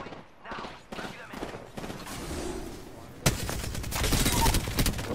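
Rapid gunfire from the video game Apex Legends, bursts of shots in quick succession growing louder toward the end, mixed with game sounds and a voice talking over it.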